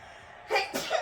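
A person sneezes in a short, sharp double burst indoors, two quick explosive bursts close to the microphone after a quiet moment.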